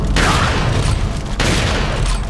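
Rapid, loud gunfire fills the scene as a player shoots at enemies in a survival horror video game, dense bursts running almost continuously with one short gap.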